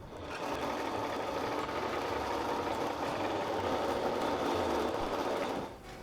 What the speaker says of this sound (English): I'll take it over to the scroll saw.